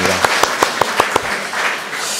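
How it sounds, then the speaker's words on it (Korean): Applause of encouragement in a Korean church's Sunday worship service: a run of about six sharp, evenly spaced claps rings out over roomy congregational noise, then gives way to a softer, diffuse murmur. "이렇게 올라오셔서 격려 박수하겠습니다"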